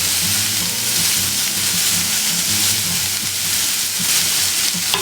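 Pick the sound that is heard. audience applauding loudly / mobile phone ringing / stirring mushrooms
stirring mushrooms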